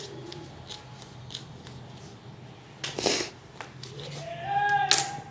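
Newspaper rustles and creases as it is folded into a small bag, with soft scattered crinkles and then louder crisp folding sounds near the end, close by and without talking.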